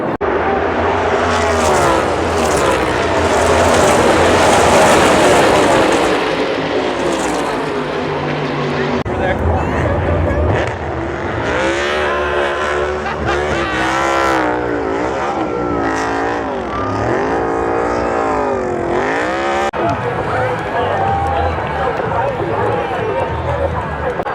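NASCAR race cars roar past at the finish of the Texas Worth 400, a loud continuous engine drone with passing pitch sweeps, while a commentator talks over the racing throughout.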